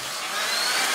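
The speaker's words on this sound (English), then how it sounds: "That's for the air pump." Electric air pump running to inflate balloons, a steady loud whirring hiss of motor and rushing air that holds constant for the whole moment, with no voices.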